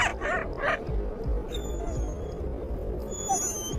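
Hunting dogs such as Alaskan Malamutes or Siberian Huskies bark and yip in a few short bursts, moderately close, with whimpering between calls over a low rumbling background.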